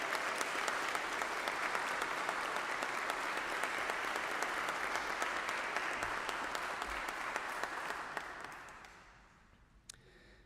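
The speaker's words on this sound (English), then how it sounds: "offer the choir and Michael Mitchell a round of thankful applause for their ministry" A church congregation gives the choir and Michael Mitchell a round of applause, a full, sustained crowd clapping that fades out near the end, followed by a couple of isolated claps.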